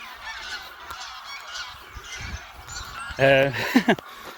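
Several geese honk loudly near the end, a burst of harsh overlapping calls after a stretch of quieter background noise.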